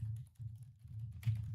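Fast typing on a computer keyboard, a steady run of soft, close key clicks with a brief pause and a slightly louder burst near the end, heard alone without talk.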